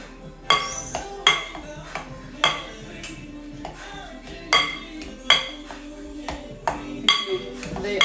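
A utensil clanks and scrapes against a bowl in a steady rhythm of sharp taps while parboiled beetroot is mashed with corn flour and fava beans, with a voice talking quietly in between.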